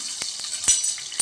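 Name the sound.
curry leaves sizzling as added to hot oil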